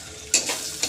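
Chili powder stirred into potatoes frying in a pan: a short scraping stir over a steady sizzle, with two brief louder strokes.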